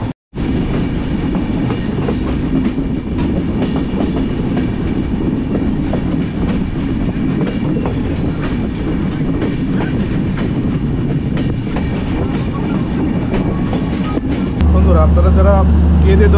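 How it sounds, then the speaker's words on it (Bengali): Benapole Express passenger train running on rails between Darshana and Dhaka in Bangladesh, a loud continuous rumble with clattering wheels heard from on board, throughout the whole stretch. "আমাদের ট্রেনটি আবার ঢাকার উদ্দেশ্যে যাত্রা শুরু করলো।"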